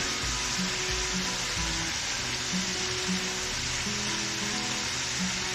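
Chicken sizzling and frying in a pan, a steady close hiss with faint stirring clinks and low bubbling underneath, no talking.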